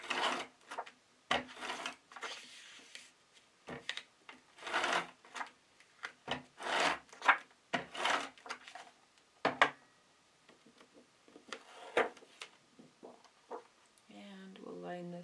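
A paper flap is rubbed down by hand to adhere it on a folio, giving soft, intermittent brushing and pressing strokes in short bursts at close range, with a brief rattly noise near the end.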